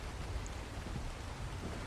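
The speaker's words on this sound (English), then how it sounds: "But over here, it's suddenly raining again." Steady, soft rain hissing in the video game Ark, a continuous faint wash of drops with no voices.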